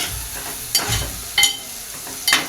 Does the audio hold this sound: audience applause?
no